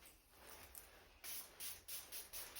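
A facial spray serum is misted onto a face in a few short, soft hissing puffs that come in quick succession after a quiet start, close up and with no talking.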